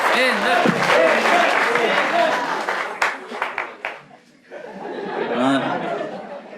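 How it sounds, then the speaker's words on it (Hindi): Audience applause and laughter for a contestant on an escape-room comedy show, a lively burst of clapping with chuckles and chatter that fades, then voices and laughter rise again. "उसके लिए ताली बजाइए"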